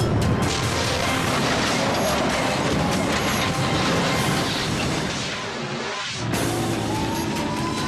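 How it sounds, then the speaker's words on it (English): A commuter train collides with a truck in northern France, heard as a loud, dense roar of grinding and crashing noise that dips briefly before surging back. "A commuter train blazes after colliding with a truck."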